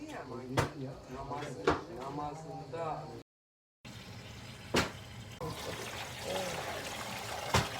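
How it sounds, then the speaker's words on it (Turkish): Olive oil poured into a pot while making dolma, a soft trickling pour heard under people talking nearby, broken by a brief gap of silence. "Yağımızı ekliyoruz."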